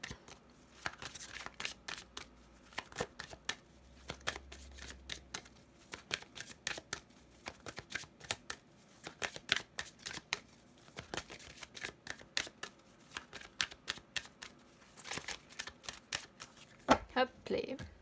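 Oracle des ombres cards shuffled at close range, giving a long run of quick, crisp riffles and taps in uneven bursts, fairly quiet, with a brief low hum early on.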